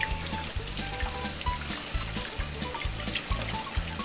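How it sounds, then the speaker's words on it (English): Cold running water trickles and splashes steadily as a rainbow trout is rinsed beneath it, with a faint repeating low hum in the background. "We're going to wash it off, rinse it off,"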